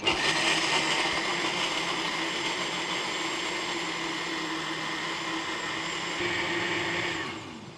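A blender whirring on an apple-berry syrup, tofu and berry drink, a loud, steady motor drone running without a break, then winding down at the end, close by with no talk.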